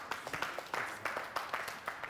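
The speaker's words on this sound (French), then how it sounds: "Applaudissements pour l'accompagner." A studio audience on a Burkinabè TV variety show claps in a quiet, regular rhythm, with soft sharp hits repeating every fraction of a second against a faint hiss.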